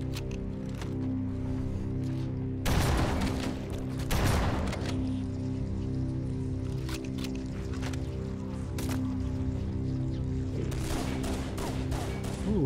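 Gunfire and bursting Flood creatures in Halo CE, with two loud broadband blasts and scattered sharp shots over a steady droning game soundtrack, no voices.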